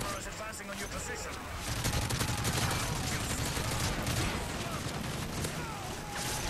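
G3 rifle fire in Modern Warfare 3 Chaos Mode, with rapid cracking gunshots and heavy battle noise running continuously under a man's speech.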